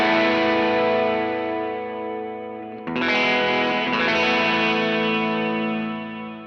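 Sustained electric guitar chords through a Pettyjohn Chime MKII overdrive pedal with gritty overdrive and a shimmering effect, one chord fading before a second strum rings out loud and close.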